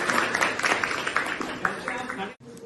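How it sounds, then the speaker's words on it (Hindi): Students in a classroom clap together in welcome, a dense sustained patter of many hands that fills the room before cutting off abruptly near the end, with voices mixed in. "ताली बजा के स्वागत कीजिए।"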